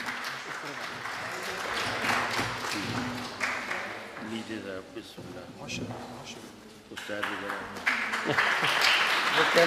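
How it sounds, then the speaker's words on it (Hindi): Applause from the audience at a mushaira awards ceremony in Wimbledon as a shield is collected, clapping rising and falling unevenly over several seconds with a voice talking through parts of it. "आपकी भरपूर तालियों में"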